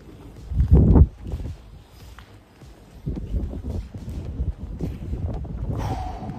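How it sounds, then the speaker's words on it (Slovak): Wind gusts buffet the microphone with low rumbling bursts, strongest early on, then a steady blustery roar continues outdoors at an unfinished cyclotron centre. "to je vietor"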